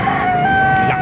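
A very large rooster at the Baliuag market crows loudly and close, one sustained, strained call filling the whole moment.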